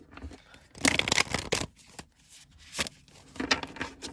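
Several bursts of crisp riffling and slapping as a deck of tarot cards is shuffled nearby, with short pauses between rounds.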